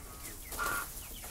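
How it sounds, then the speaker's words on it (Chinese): A chicken near a sheep pen gives a short, faint cluck or two, brief and somewhat distant, with no talking. "这鸡他们也混一块儿"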